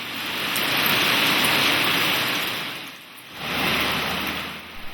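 Steady rain from a rainstorm pattering onto surfaces, a dense, loud hiss that dips briefly midway before swelling again, with no voices.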